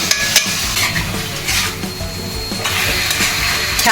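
Green chicken being stirred in a cooking pan, a steady scraping and clinking of utensil against metal over soft sizzling, close and continuous with no talk.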